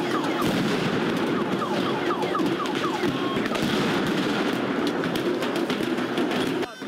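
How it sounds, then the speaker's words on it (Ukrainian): Bangs and blasts during night clashes on Hrushevskoho Street in Kyiv, at the entrance to the government quarter, pop through a dense, continuous roar of crowd noise and shouting, with scattered sharp cracks throughout. "На в'їзді в урядовий квартал лунають вибухи."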